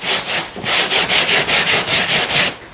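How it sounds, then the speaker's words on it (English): A nylon Rubbermaid scrub brush scours a car floor mat sprayed with Simple Green cleaner, making loud, close, rhythmic swishing strokes, about ten even back-and-forth rubs in quick succession. "Now I'm going to go in with my scrub brush."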